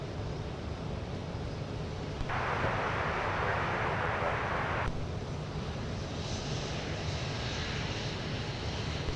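Jet airliner taking off from runway 17 at Minneapolis–St. Paul airport, a steady distant roar of engines that swells into a louder broadband rush for a few seconds, then eases back to a continuous rumble.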